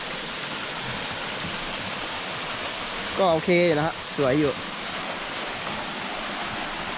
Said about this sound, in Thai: ก็จะเจอน้ำตกครับ น้ำตกอ่างเบงครับ